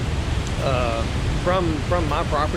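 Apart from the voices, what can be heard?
rain runoff water flowing down a creek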